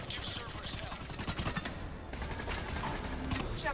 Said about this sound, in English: you're in the middle of 100 troops that are shooting you.